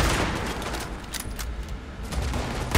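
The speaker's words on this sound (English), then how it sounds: "the turret is shooting at me" Automatic turret gunfire in the video game Fallout 76 rattles in dense, rapid volleys throughout, loud and continuous.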